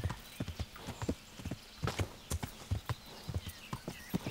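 Hooves of a galloping horse in the game Kingdom Come: Deliverance, a steady run of close, thudding clip-clop beats in uneven clusters, with no voices over them.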